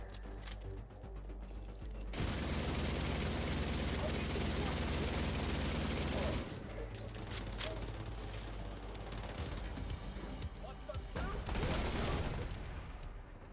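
Sustained, loud gunfire in The Division 2: dense overlapping bursts of automatic fire start abruptly after a short quieter lead-in and run almost continuously, with brief lulls and swells of combat noise.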